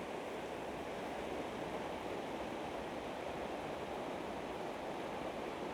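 A river flowing beside a riverside nature walk, heard as a steady, unbroken rushing wash of water that holds an even level throughout, with no voices.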